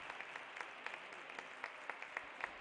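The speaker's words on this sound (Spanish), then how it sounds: "Se retira con la ovación del público" A crowd claps steadily, with scattered sharper claps standing out over a broad, even wash of applause at moderate distance.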